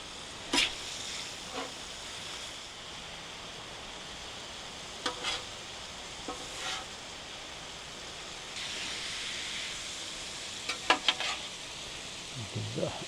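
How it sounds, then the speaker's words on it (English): Onions and mushrooms frying in a pan, a soft steady sizzle with a few sharp clinks and scrapes of a utensil, no talking. "The onions and mushrooms a little flip. They still cook a little in that corner"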